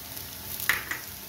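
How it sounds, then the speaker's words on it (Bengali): Ginger goes into onions frying in oil, giving a brief, close, soft sizzle with a light stirring scrape. "এবার আমি এর মধ্যে আদা পোড়াটা দিয়ে দিচ্ছি।"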